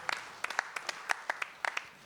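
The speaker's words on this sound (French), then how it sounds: "si vous pouvez l'applaudir" Scattered, sparse hand claps from a congress audience at the 32nd ANEM general assembly, fairly faint and distant, about a dozen distinct claps spread irregularly rather than a full ovation.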